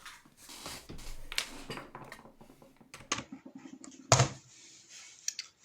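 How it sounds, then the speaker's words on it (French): A small SD card clicks and scrapes into the slot of a Nintendo 2DS handheld console, giving a few close, sharp plastic clicks and rustles, with one louder snap near the end. "On remet la carte SD dans la console."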